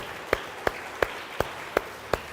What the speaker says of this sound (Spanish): Yo veo que alguien está dando palmas a Él.